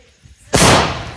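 A Diwali firework rocket goes off with a sudden loud, sharp burst that trails into a sustained crackling hiss, close by.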